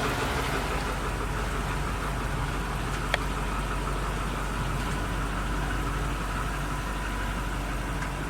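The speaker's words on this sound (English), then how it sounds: "Now that's piston slap when it's cold." A cold Toyota Tacoma engine idles steadily with piston slap, giving a constant low, knocking rumble at even volume with one brief sharp click partway through.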